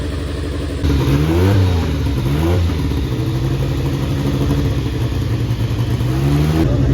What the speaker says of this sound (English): That one over there is running Porsche WSC 95.